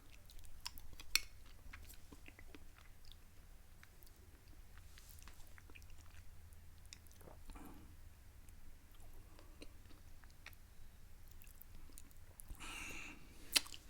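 Someone chews spicy, pepper-heavy food close up, with quiet, irregular wet bites and mouth sounds over a low background hum and no talk.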